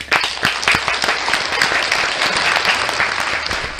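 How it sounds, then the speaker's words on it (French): Studio audience applauding to welcome a guest onto a French-language show, a dense sustained wash of clapping with sharp individual claps standing out, loud and continuous throughout. "Mesdames et messieurs, des applaudissements pour celui qu'on appelle"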